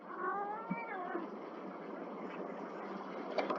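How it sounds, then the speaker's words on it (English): A cat meows with a rising, drawn-out cry near the start, then fades into a low background hum. "And if you heard that, that was just my cat."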